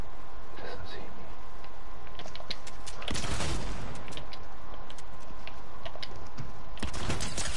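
Rapid submachine-gun fire in Fortnite, a loud dense burst of shots near the middle among scattered shorter volleys and game effects, with a voice faintly present.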